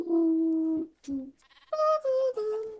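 Minecraft sheep bleating in short wavering calls, a long one followed by several quick ones, loud and close in a game world with no speech over it.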